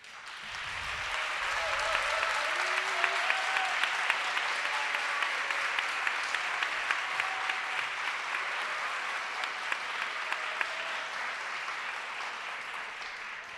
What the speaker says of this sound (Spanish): Casi que el aplauso fue suficiente